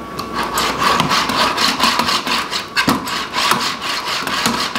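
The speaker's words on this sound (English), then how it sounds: "Back and forth. The spatula is coming" Metal spatula scraping soft spaetzle dough back and forth on a board, a steady run of gritty rasping strokes, close and fairly loud, with no talking.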